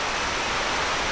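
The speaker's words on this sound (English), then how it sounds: "right by the creek." Creek water flowing right beside a restored circa-1640 log cabin in Pennsylvania, heard as a steady, broadband rushing wash with no breaks, fairly close and alone, no voices.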